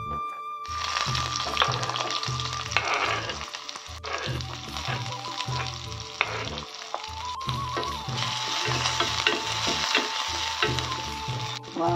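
Onion frying in hot oil with cumin and mustard seeds, a loud continuous sizzle close by with intermittent stirring scrapes and knocks throughout.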